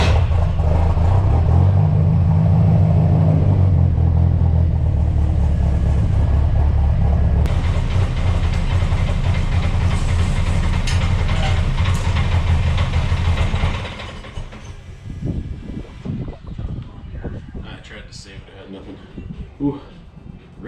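A car engine starts and runs at a loud, steady idle with a deep rumble, then drops to a lower, uneven, rich-running idle at about 1,000 RPM while people talk nearby.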